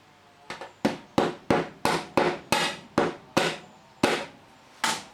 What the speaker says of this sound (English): we can punch a hole just there for the retaining screw